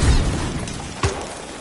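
A grenade blast in a Battlefield 2042 Breakthrough match, a short sharp burst with a boomy low thump, heard over continuous battlefield rumble and noise.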